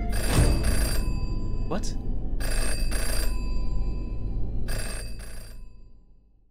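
A telephone rings in the video game Jenny LeClue, several bright, repeated ring bursts with short gaps, while a voice talks over it.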